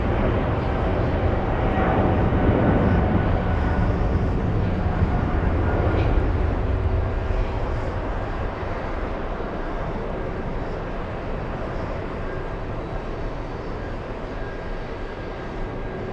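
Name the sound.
Virgin Atlantic A350-1000 arriving at JFK airport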